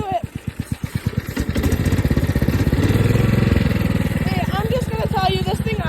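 Homemade lawn mower engine idling, a loud, close single-cylinder putter that starts as distinct slow pulses, then smooths into a faster steady chug, with a voice speaking over it toward the end.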